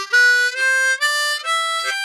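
A harmonica plays a short second-position blues scale without bends, about four clear sustained notes stepping downward in pitch. It is close and fairly loud, heard alone.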